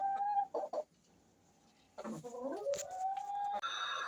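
Laying hens cluck and make drawn-out calls close by in a coop, a few clucks, a brief quiet gap, then a longer stretch of overlapping calls.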